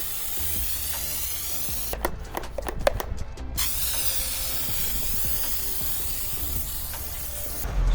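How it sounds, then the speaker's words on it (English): Snow foam sprays onto a car with a steady hissing wash that runs through the whole stretch, with a burst of rapid clicking partway through. "Now for snow foam."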